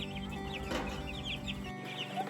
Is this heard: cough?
no